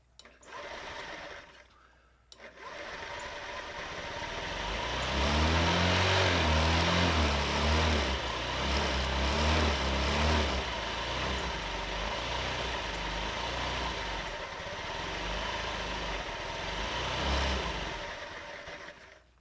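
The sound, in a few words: old scooter engine running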